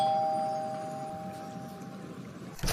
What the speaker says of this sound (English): I will ring the doorbell, you get the candy.